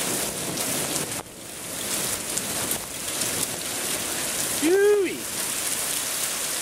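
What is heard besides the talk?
heavy rain during a storm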